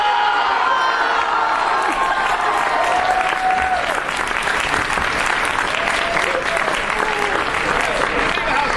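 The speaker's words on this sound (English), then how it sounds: "Applause!" A crowd at a 2010 San Diego Comic-Con Klingon panel breaks into loud, sustained applause mixed with cheers and scattered whoops, dense and close throughout the full stretch.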